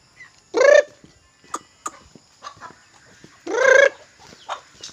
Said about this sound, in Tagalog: magpapakain tayo sa ating mga alagang manok at itik